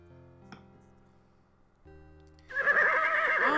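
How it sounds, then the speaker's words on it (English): Game music and a brief click give way to a loud horse whinny bursting in near the end, close and sustained with a shaking, wavering pitch, heard in a Robin Hood video game. "That's a loud horse."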